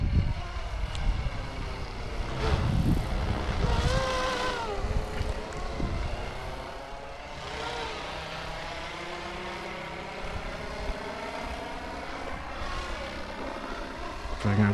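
A Flywing FW450 Airwolf RC helicopter flies outdoors, its rotor and motor giving a continuous whirring drone that rises and falls in pitch as it maneuvers, louder at first and then steadier.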